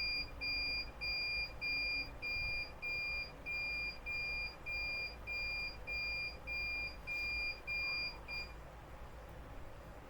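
A gas sensor's buzzer alarm in an IoT smart-home setup beeps in a steady, evenly spaced pattern of about a dozen short, high tones, then stops near the end over faint background hiss.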